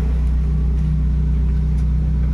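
A Toyota 4A-FE engine idles roughly on a cold start, a loud, steady close-up drone with a low pulsing throb and no talk.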